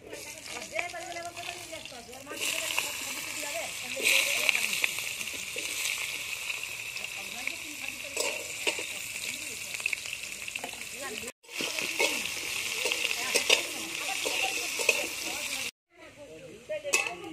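Potatoes fry in a pan with a steady hiss and crackle, interrupted by two brief silent cuts, while a voice talks over the frying at times.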